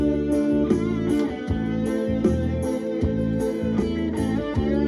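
Music with a steady beat and singing plays through one small, boxy speaker of a 1967 VEF radio, sounding narrow and slightly tinny, continuous and moderately loud.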